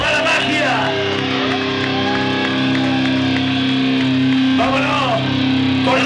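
A crowd at an end-of-tour concert shouts, whoops and cheers continuously, loud and close, over sustained music throughout.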